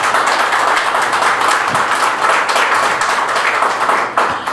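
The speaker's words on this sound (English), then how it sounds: "Ladies and gentlemen, please a round of applause for the work." Steady, loud applause fills a San Pedro Town Council meeting room, dense continuous clapping from a crowd that holds level before easing slightly at the end.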